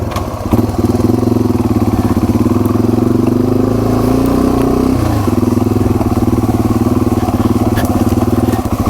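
Yamaha TW200 dual sport motorcycle ridden through the Ottawa National Forest in Michigan's Upper Peninsula, its single engine droning steadily and close, with a brief dip in pitch partway through before it settles back in.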